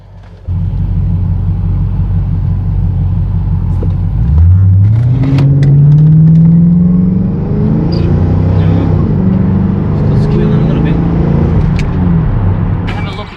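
A Ford AU Falcon XR8 V8 idles with a deep rumble, then is revved hard and held high for several seconds before dropping back, loud and close, while checking for a belt squeal.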